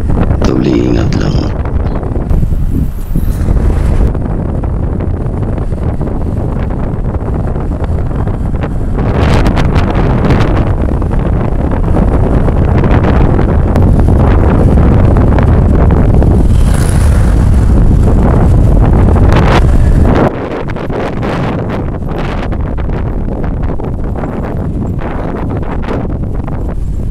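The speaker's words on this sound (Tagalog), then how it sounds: "Sa lubong naman yung hangin, hindi na maririnig yung sinasabi ko" A strong headwind roars across the microphone on the road up Mount Balagbag in Montalban, Rodriguez, Rizal, loud and continuous buffeting throughout, with someone talking under it.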